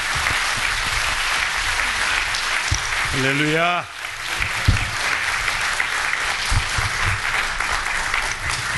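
A church congregation claps warmly to welcome the pastor, loud continuous applause broken briefly by a voice calling out, then the clapping resumes.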